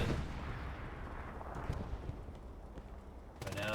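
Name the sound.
tank cannon shot hitting a turret, from a video game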